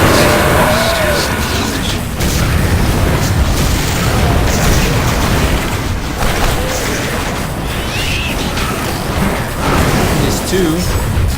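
Loud, continuous booms and blasts from a video game fill the whole stretch, overlapping explosions with rumbling low-end impacts and only brief dips between them.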